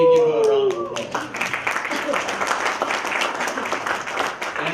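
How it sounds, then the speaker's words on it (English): A Toastmasters club audience bursts into applause after a tonal opening sound, giving a small room's worth of steady, closely spaced hand claps that continue at an even level to the end. "So for that, could we give her a round of applause?"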